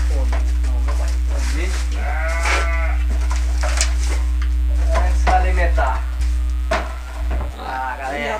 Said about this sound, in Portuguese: Tô vendo os bezerros gritando ali, já sabe o horário de comer.